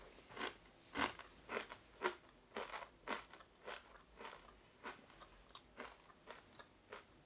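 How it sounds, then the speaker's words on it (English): Crunchy baked mochi yatsuhashi cookies, a whole-food plant-based vegan recipe, being bitten and chewed up close, with a steady run of sharp, crackly crunches repeating every half second or so and no talking. "It's crunchy, like a very crunchy cracker."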